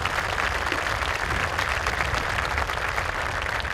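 A graduation audience claps for newly named students, a dense, even wash of many hands filling the room at a constant level for a few seconds with no voices breaking through.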